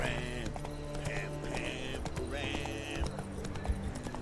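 Horse hooves clip-clop along in The Witcher 3 video game, a steady trotting rhythm under game music, with bursts of higher tones and thuds mixed in.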